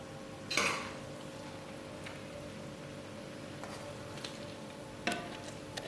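Karachi student biryani is served out of a cooking pot, with a few sharp clinks and scrapes of a serving spoon against metal over a low steady background hum.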